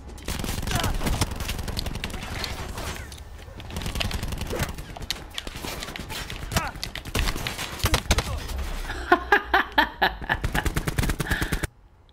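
Rapid bursts of gunfire in a Call of Duty Black Ops 4 gunfight, with MOG 12 and SG12 shotguns. The shots are loud and dense, some in quick automatic runs and some in sharp repeated blasts, then stop abruptly near the end.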